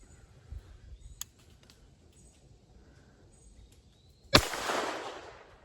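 A single sharp shot from a Beretta 21 Bobcat .22 LR pocket pistol fired outdoors, one loud close crack followed by a short decaying ring after a quiet stretch.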